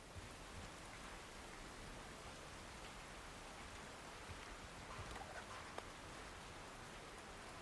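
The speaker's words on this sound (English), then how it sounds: "The rain sounds different on various bits like metal and that you're under." Rain in The Last of Us Part 2, a faint, even hiss of falling drops on metal and overhead cover, steady and unbroken throughout, with no voices.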